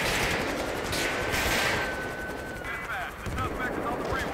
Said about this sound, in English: Oh, that was an explosion somewhere